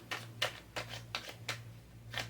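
Tarot cards being shuffled by hand: a run of about six short, crisp papery bursts at an uneven rhythm, close and fairly quiet, over a steady low electrical hum.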